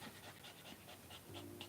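A puppy pants quickly and steadily, soft and close in a quiet indoor room, with no voices.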